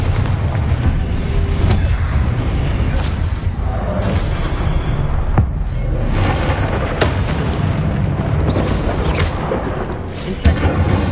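Confringo explosive spell blasts in the video game Hogwarts Legacy, a sustained rumbling boom with repeated loud impacts layered over dense battle noise, heavy low end throughout.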